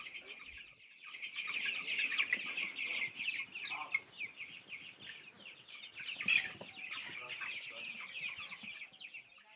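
Chickens cluck steadily and densely at a local chicken farm in the Rupununi, with overlapping bird calls throughout and one louder squawk near the end, no talk over them.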